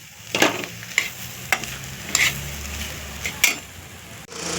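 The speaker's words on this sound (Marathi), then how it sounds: "आता त्यात टाकूया रताळा आणि रताळा पण परतून घेऊ" Chunks of sweet potato are stirred and scraped around a hot pan in several distinct strokes, over a low steady sizzle; no voices.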